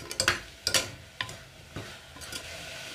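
Chicken with crushed ginger and garlic sautés in a pan, a spatula scraping and clinking in a few sharp strokes over a soft, steady sizzle that carries on alone after the stirring fades.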